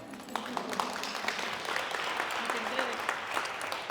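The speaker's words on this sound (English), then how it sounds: "You can clap. Go ahead." Audience clapping at the Sacramento Women's Conference, a dense, sustained burst of applause that holds steady, with voices faintly mixed in.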